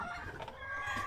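A chicken clucks briefly under a steady background hum, at moderate distance, while rice and supplies are being packed at a base.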